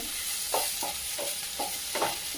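Onion pieces dropped into a pan over a high gas flame, giving a soft hiss broken by a quick series of scraping stirs, about five close strokes in a row.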